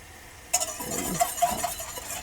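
Browning butter frothing in a large pot as it is whisked, a sudden loud bubbling hiss that starts abruptly and continues steadily with soft stirring scrapes.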